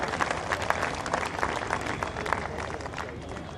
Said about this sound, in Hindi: तालियों की गूंज में इस्तकबाल कीजिए